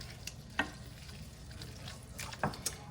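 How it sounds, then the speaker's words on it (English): A spoon stirring marinara sauce mixture in a pot, with a faint low sizzle and a few soft clinks and scrapes scattered through the quiet. "Mix that all up."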